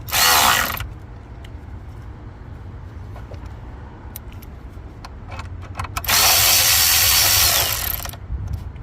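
A power tool loosening an 8mm screw under a Chevy's dash at the throttle pedal position sensor: two loud whirring bursts, a short one at the start and a longer one near the end, with quieter clicks and handling noise between.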